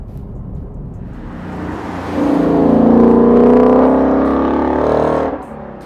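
A 2018-2019 Ford Mustang GT fitted with a Ford Performance by Borla Extreme catback exhaust with quad tips, its deep V8 drone swelling louder midway through, holding a strong rumbling tone for a few seconds before easing off.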